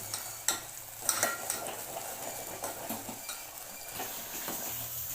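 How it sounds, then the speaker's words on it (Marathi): Masala being stirred and fried in oil for a spicy goat head curry, a quiet steady sizzle broken by a few sharp spoon scrapes and knocks against the pan. "मसाला आपला छान तेलामध्ये फ्राय करून घ्यायचा आहे"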